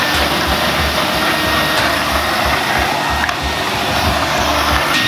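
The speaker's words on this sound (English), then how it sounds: "the water vacuum is like just cleaning out all the water in here" Wet vacuum sucking up floodwater inside a flooded store gives a loud, steady, unbroken roar of rushing air and water that holds level for the whole stretch, heard close with no talk.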